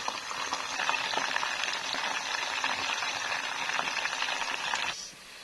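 Four pieces of food fry in a pan in a home kitchen, a dense steady sizzle and crackle close by that cuts off abruptly near the end, leaving quiet.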